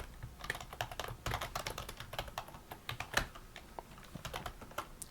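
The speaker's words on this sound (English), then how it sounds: "I have to type in my password." A password is typed on a computer keyboard, a quick close run of clicking keystrokes with a few louder taps and no voice.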